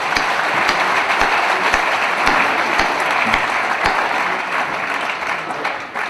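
Sustained audience applause at a Hindi poetry gathering (kavi sammelan) in Indore, dense clapping filling the hall steadily for several seconds before thinning slightly toward the end.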